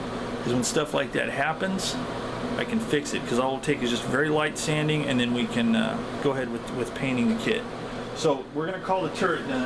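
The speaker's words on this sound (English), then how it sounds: "I turned on my ventilation because I am doing it in" A ventilation fan hums steadily inside an enclosed workshop where plastic model kits are being painted, a faint constant drone beneath someone talking throughout.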